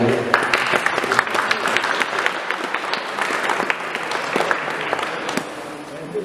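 An audience applauding at a gallery exhibition opening, dense, sustained clapping from a room full of people that tapers slightly toward the end, with a few voices mixed in.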